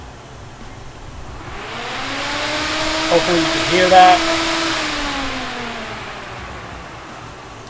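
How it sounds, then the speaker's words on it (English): An auxiliary electric radiator cooling fan installed in a BMW E36 spins up to a steady whirring rush, holds, then winds back down, with a person speaking briefly over it. "telling the auxiliary fan to kick on"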